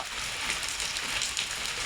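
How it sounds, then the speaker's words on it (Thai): Light rain patters steadily onto potted caladium plants, a soft even hiss of fine drops with faint scattered taps, close and continuous with no voices. "ฝนกำลังตก แต่ตกไม่แรง"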